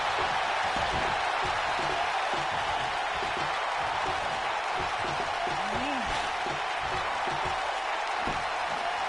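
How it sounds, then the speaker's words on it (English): A wrestling crowd in the WWE 2K video game roars and cheers steadily and loudly throughout, a dense wash of noise with no pauses. "Listen to this crowd."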